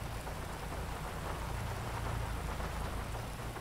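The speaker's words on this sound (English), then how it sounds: "This rain, though." Steady rain in a GTA roleplay game, an even, continuous wash of falling drops heard alone without talk, with no thunder breaking through.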